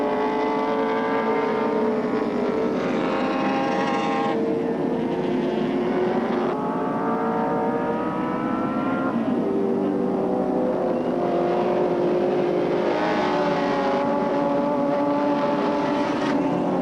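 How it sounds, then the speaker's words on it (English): Touring race cars at Oran Park during the 1984 ATCC race roar past in a continuous loud engine drone, pitch rising and falling as the cars accelerate and lift off through the corners. "Peter Brock now through Castrol Curve."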